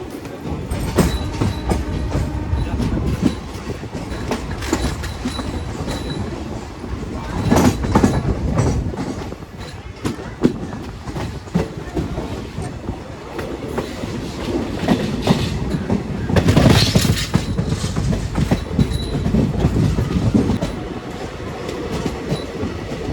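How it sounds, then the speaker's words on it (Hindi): The Rewa Rajkot Superfast Express pulls out of Narsinghpur railway station in the monsoon, with loud rumbling carriages and rhythmic clickety-clack of wheels over rail joints building and swelling in waves throughout, close by. "Departure from Narsinghpur railway station."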